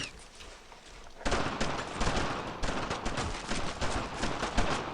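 Dense gunfire from the World War II shooter Brothers in Arms: Road to Hill 30 erupts after a quieter opening, a continuous rattle of rapid shots with occasional voices mixed in.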